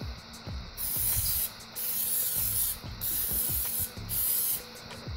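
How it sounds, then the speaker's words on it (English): Cooking oil is sprayed onto cod fillets in an air fryer in four loud, hissing bursts of about a second each, separated by short pauses, close up with no talking. "Spray the fish."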